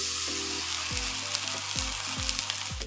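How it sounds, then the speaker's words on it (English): Six cups of beef broth hit a pot of sizzling garlic, fresh ginger and scallion for a tomato beef soup, giving a loud, steady sizzle and hiss with faint stirring and no talk. "So now after I add 6 cups of beef broth"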